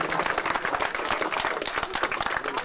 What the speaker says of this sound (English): I want you to give a big round of applause to Jeff Prather